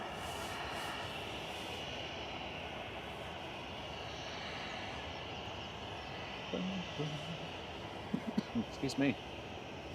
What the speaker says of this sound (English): Just about to come over the threshold then is the first A380 of the day, coming in from Dubai with flight 21 for Emirates